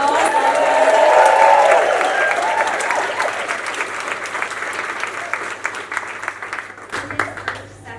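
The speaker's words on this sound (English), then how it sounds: "if we just give them a big warm round of applause" Warm applause from a concert audience at a memorial music night, loud and steady at first, thinning gradually toward the end with a faint low hum beneath.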